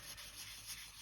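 Soft, steady scratchy rubbing of fine sandpaper against a small hard piece of polymer clay, close and quiet, continuous for a moment with no talking.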